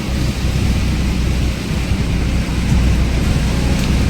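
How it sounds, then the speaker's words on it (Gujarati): Heavy rain pours down in a dense, steady roar, loud and close, with no voices. "જોઈ લો ભાઈ, ફૂલ વરસાદ ચાલુ થઈ ગયો"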